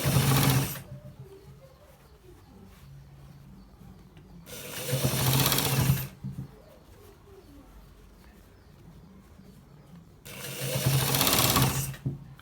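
Sewing machine stitching a shirt in three loud, close bursts of rapid needle chatter, each lasting a second or two, with quieter pauses between them where soft pigeon cooing can be heard.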